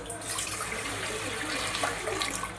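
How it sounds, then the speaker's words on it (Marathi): Water poured into a steamer pot sitting on a gas stove, ready for steaming traditional ukadiche modak; a steady, close splashing pour runs continuously and fairly loud with no talk. "त्याच्यामध्ये थोडं पाणी टाकून घेऊया."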